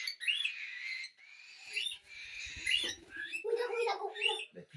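A pet bird, handled and perched on a person's shoulder, gives a run of close, bright chirps and squawky calls in several bursts, with brief soft handling noise between them.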